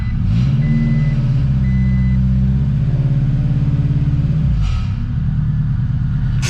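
A cheap, worn-out car engine idles close by after repair work, giving a loud, steady hum that shifts briefly in pitch near the end.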